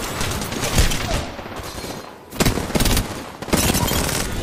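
Rapid bursts of automatic gunfire from a video game battle ring out loud and close, with sustained volleys broken by short pauses near the midpoint and again later.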